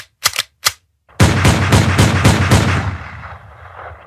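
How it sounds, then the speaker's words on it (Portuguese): Gunshots ring out in a Spider-Man video game as agents fire at the hero: three sharp separate cracks, then a rapid loud burst of repeated shots fading into a ringing tail. "os agentes mandam um tiro pra cima dele"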